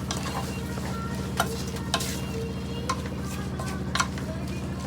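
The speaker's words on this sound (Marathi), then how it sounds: "मस्तपैकी त्याला फ्राय होऊ देऊया थोडा उशीर 5-10 मिनिटे" Onions fry with salt in a pan with a steady close sizzle, stirred now and then with occasional spoon clinks against the pan, all at a constant level.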